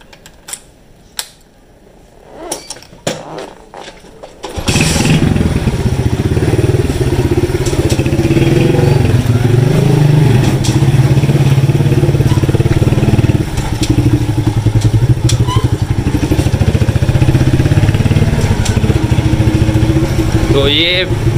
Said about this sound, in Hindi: बाइक हमारी बाहर खड़ी है दरवाजे के, तो अभी हम इस पे चलते हैं